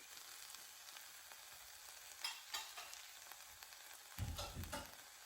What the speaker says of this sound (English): Now I'm going to mix in my black beans.